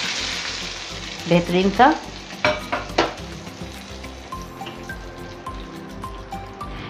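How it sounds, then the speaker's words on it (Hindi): Hot tempering (baghar) is poured over moong dal dahi baray, giving a sharp burst of sizzling and crackling that settles into a soft, steady fry, with someone speaking briefly. "ये इस पे हम भगार डाल देंगे"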